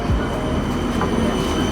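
A tram passing through a Montpellier street: a steady, close rolling rumble with a faint rail squeal on top, sustained for under two seconds.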